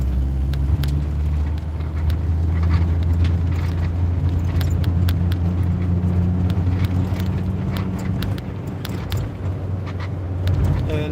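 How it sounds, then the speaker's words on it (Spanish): A powerful car engine drives along with a continuous deep rumble, scattered small clicks and rattles over it, and no voices. "Qué coche más potente tengo."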